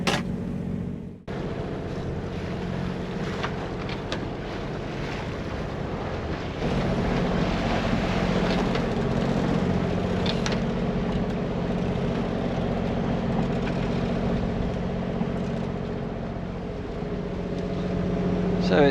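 A sailing boat motors along under engine power at sea, a steady low diesel drone running continuously beneath wind and water rush, loud and close throughout.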